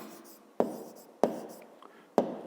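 A pen writes in a school math exercise book, making three short, sharp scratching strokes spaced about a second apart. The strokes are close and clear over a quiet background.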